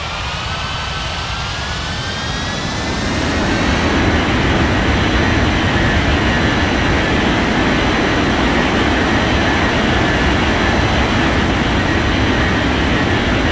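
A jet aircraft taxiing to the gate gives a long, loud engine roar whose whine climbs over the first few seconds and then holds steady with no voices.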